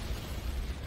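A C4 charge goes off in Planetside 2, a brief, dense, rumbling blast heard loud and close, with no talking over it.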